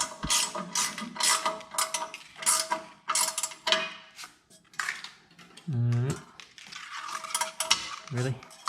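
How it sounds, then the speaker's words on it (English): A bolt being tightened on a Proform Sport 7.0 treadmill during assembly: rapid ratchet clicking in repeated bursts with metallic clinks and a few short knocks, close and fairly quiet, and a brief voice at one point. "then I'm gonna tighten up the other bolt"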